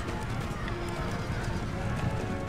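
Cavalry horses gallop with a dense, continuous clatter of hooves in a large Empire: Total War battle, with someone talking over the sound.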